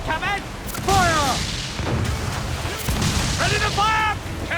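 Ship cannons firing during a naval battle in the Assassin's Creed IV Black Flag video game: several heavy booms and rumbling blasts under loud shouting voices of the crew.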